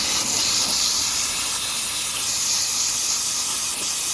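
Water sprays hard and steady through the back of a dirty air filter from a Prevost H3-41 bus, a constant close hissing rush with no pauses and no voices.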